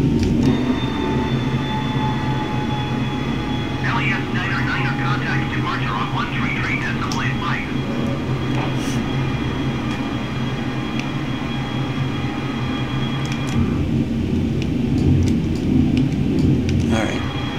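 A Boeing 747 climbs out after takeoff from Tallahassee with a steady, droning roar of jet engines. A faint tonal whine runs through it, and there are bursts of higher chatter partway through.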